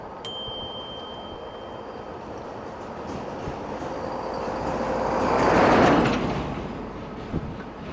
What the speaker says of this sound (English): Yeah, trucks are heavy here today.